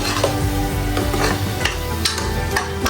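Masala spices fry in a pan for mutton curry, a close, loud continuous sizzle with stirring and a few metallic scrapes against the pan.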